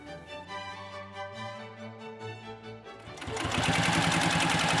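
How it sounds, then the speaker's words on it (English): A sewing machine stitches binding in place, running steadily, its rapid stitching rattle growing louder and denser partway through. "I use same setting as before on my sewing machine and I stitch the binding in place all around."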